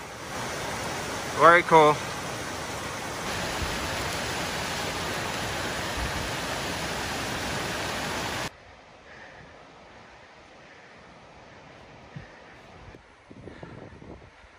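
A waterfall near the source of the Yellowstone River, deep in remote national park wilderness, gives a steady, loud rushing roar through most of the clip before it suddenly drops to a quieter background. Someone speaks briefly over it.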